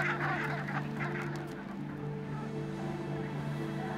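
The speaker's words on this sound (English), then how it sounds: "Brent geese are gathering in large flocks, ready to fly south." A flock of Brent geese on the Arctic tundra honks repeatedly over a steady low drone, calls overlapping and fading slightly after the first seconds.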